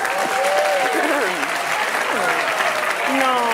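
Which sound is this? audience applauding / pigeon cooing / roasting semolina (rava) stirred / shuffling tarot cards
audience applauding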